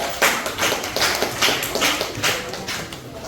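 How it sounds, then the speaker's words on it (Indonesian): Students in a classroom clap for a classmate, a close, busy patter of many hands in uneven bursts that swells and eases over a few seconds. "tepuk tangan dulu buat teman kalian"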